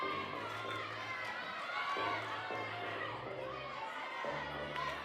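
Gymnastics teammates cheer and shout from the sidelines during a women's intrasquad floor routine, a steady crowd roar with excited voices and chatter filling the hall throughout.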